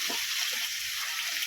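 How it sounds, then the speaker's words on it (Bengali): Water runs steadily from a tap while meat is washed during cooking, a constant close hiss and splash with no pauses and no talking. "এখন ধুয়ে নিয়ে মাংসগুলো ছাড়িয়ে নেব।"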